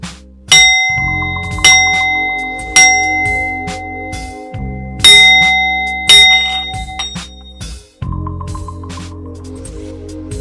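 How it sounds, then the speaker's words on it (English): A hand bell rings in a cleansing ritual meant to clear energy, struck about seven times at irregular intervals, each loud ding ringing out and decaying before the next, close with no speech. "I'm using a bell, so this will be a little loud."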